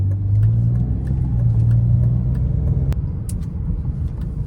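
A BMW E39 sedan's engine drones steadily from inside the cabin while driving, a deep continuous rumble that holds fairly loud throughout, with one sharp click midway.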